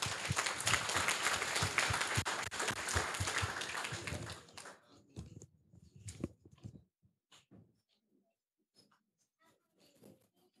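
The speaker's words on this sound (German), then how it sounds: "Vielen Dank und einen Applaus für die Gruppe." Applause from a youth hackathon audience in Cologne, with brisk clapping for about four seconds that quickly fades into scattered last claps, faint rustling and near silence, and a few soft voices.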